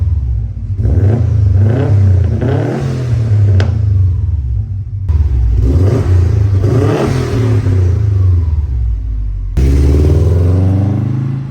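Up close, a Subaru car engine revs hard in several loud, throaty bursts that rise and fall with a rough rumble, then the car pulls away under power.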